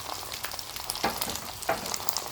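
Chicken wings semi-fry in a pan in their own rendered fat with no added oil, giving a soft, continuous crackling sizzle with occasional sharper pops and stirring scrapes, no voices.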